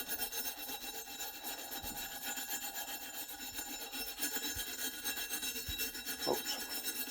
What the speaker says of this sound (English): So you also want to scrape that off.